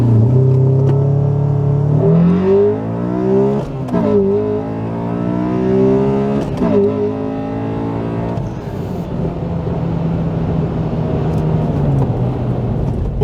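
A Honda Accord Euro R with a reflash tune accelerates hard from standstill to 100 km/h, its engine climbing loud and near through several rising gear sweeps with brief dips at each shift, then settling into a steady cruise.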